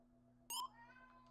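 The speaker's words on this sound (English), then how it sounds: "My cat meowing." A house cat gives a single short, high meow against a quiet indoor room with a faint steady hum, followed by a softer trailing tone.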